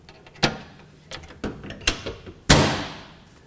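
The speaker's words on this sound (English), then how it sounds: "Now we'll put the door back on" Metal access door of a Honeywell furnace air cleaner being refitted, a series of sharp clanks and knocks ending in a louder final thud as it seats, close and without talk.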